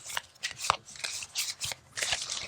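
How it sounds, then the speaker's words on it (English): Oracle cards for a tabletop board game being shuffled by hand, a series of crisp riffling bursts and soft papery slaps in a quick uneven rhythm, close and fairly loud with no talk. "to begin the game, you'll shuffle the Oracle cards"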